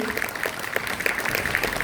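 Applause greets a guest at a school gathering in Gujarat, with a dense, steady patter of many hands clapping together close by.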